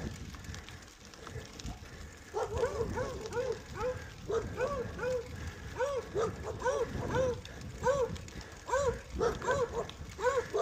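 A dog barks repeatedly, somewhat distant, while a bike climbs in the East Mountains of Albuquerque on an early morning ride; the rhythmic barking starts after a couple of seconds and continues over faint outdoor background noise.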